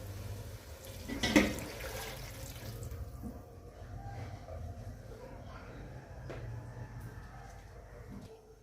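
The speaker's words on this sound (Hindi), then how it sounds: "अब मैं इसमें डालूंगी पानी।" Water is poured into a cooking pot for matar pulao with basmati rice, a steady, faint splashing stream with one brief louder splash early on, heard alone in a kitchen.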